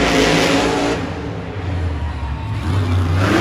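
Monster trucks Grave Digger and Kraken roar around a stadium racing track, a loud continuous engine drone that swells, dips slightly and surges again, heard from a distance in an arena.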